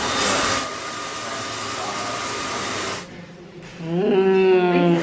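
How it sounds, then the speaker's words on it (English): Vacuum drawing husks off cacao nibs during winnowing, a loud steady rushing hiss that dips briefly, then returns with a rising whistling tone. "Now we're using a vacuum to separate the husks from the cacao nibs."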